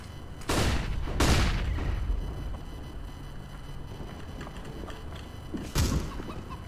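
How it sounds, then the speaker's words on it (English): Flashbang grenades go off in Counter-Strike: Global Offensive. Three sharp, loud bangs stand apart over quieter in-game background noise. "Throwing flashbang."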